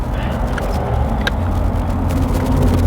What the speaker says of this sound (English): I think we need to go for a test drive, Chapo.